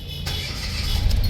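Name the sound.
car engine starting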